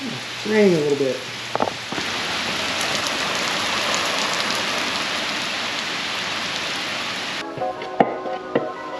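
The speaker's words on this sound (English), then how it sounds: "It's raining a little bit." Light rain falls outdoors during work on a 2003 Mustang, a steady close wash of patter broken by brief knocks and clinks, with some talk at the start.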